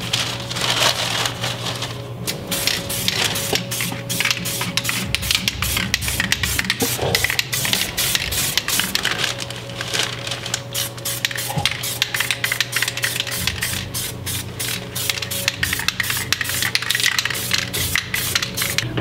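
Zinc coating is sprayed from a can onto welds in a car engine bay, a continuous hissing spray broken by crackly, rattling bursts throughout, close and fairly loud.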